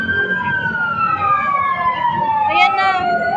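A fire truck siren approaching a fire at Kalayaan Avenue, Pitogo, Taguig: one steady wailing tone that glides slowly downward over a constant background of crowd noise and voices.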